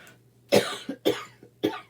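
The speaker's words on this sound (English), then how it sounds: "there goes that morning cough." Three harsh coughs in quick succession, close up, each a short rough burst with brief quiet between.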